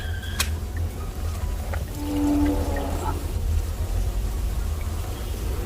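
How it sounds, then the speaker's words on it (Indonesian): Acidic electrolyte poured out of a car battery during a repair, splashing and fizzing softly over a steady low hum, with a brief clink near the start. "air sur yang ada di dalam aki ini kita buang. Seperti ini."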